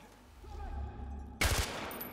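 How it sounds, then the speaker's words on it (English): Gunfire in the video game Far Cry 4: a sudden loud burst of shots erupts midway after a low rumbling game ambience, then continues as a dense, sustained crackle. "I gotta stand here and shoot the thing."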